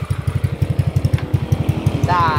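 A big-valve motorcycle engine on its stock exhaust idles close by with a steady, fast thumping pulse, and a brief higher whine rises near the end.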